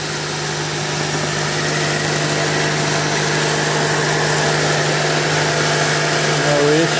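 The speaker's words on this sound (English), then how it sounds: "The motor sounds good." An AMC Eagle's engine runs at a steady idle, a constant low hum with a faint mechanical whir, close and unbroken throughout with no talk.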